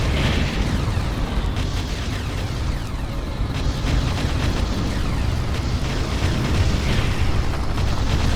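An enemy structure blows up in the Ground Control video game with a loud, rumbling explosion, the blast and booming debris rolling on for several seconds with a second burst near the end.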